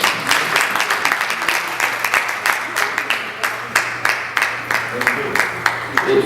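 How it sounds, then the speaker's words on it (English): An audience at a chapter conference and election gathering gives a steady round of applause, dense overlapping clapping sustained at an even level from start to finish with no voices over it. "Please give him a round of applause."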